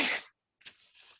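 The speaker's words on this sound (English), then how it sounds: "I'm just going to have to sneeze." A single sharp human sneeze, close and loud, followed after a brief pause by a quieter breathy sniff or exhale, in a lecture setting.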